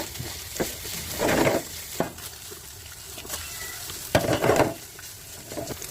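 Vienna sausage and potato fry in a pan for a breakfast omelette, giving a steady sizzle broken by a few scraping stirs, with no voices.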